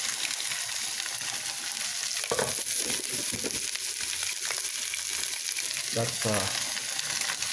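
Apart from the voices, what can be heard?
chow mein noodles and pork frying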